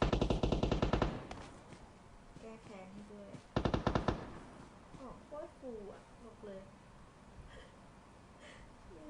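Automatic gunfire from the PUBG Mobile battle royale game, two loud rapid bursts near the start and around four seconds, followed by scattered in-game effects while a player talks over the action.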